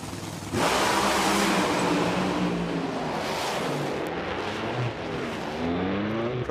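A nitro-burning funny car roars down a drag strip at a Bradenton motorsports track, a sudden loud blast of engine that holds steady and then shifts in pitch as it fades a little.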